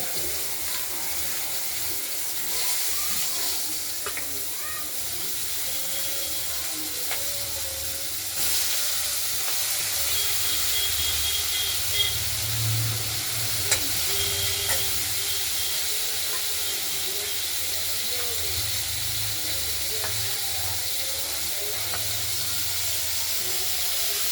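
Potatoes and flat beans fry in hot oil, giving a long, even hiss and sizzle that runs unbroken, with faint clinks and a few soft knocks underneath. No voices.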